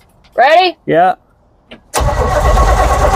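A 1970 GMC 2500 three-quarter-ton truck engine catches and roars to life after two short spoken exchanges, then runs loud and rough close by.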